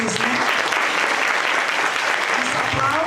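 Applause from an audience at a church women's retreat, a dense, steady burst of clapping that lasts the whole moment at an even level.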